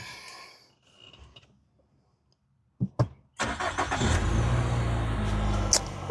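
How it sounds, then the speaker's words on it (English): A wrecked auction vehicle's engine cranks briefly, catches and fires up into a loud, steady idle, with a mechanical clunk and faint clicks just before. "let's see if it fires up"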